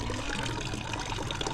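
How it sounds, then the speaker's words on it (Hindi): Water poured into a plastic bottle during a classroom science experiment, a steady continuous splashing trickle filling the whole short stretch at close range with no voices. "अब इस बॉटल में भरेंगे पानी"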